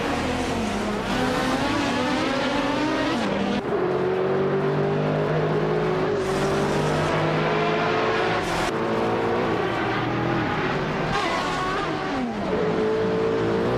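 Several race cars in a street-circuit racing video game roar continuously, engines revving and shifting through gears with rising and falling pitch, tires squealing briefly, loud and steady with no talk.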